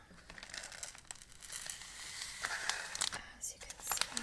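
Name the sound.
crinkling plastic grocery bag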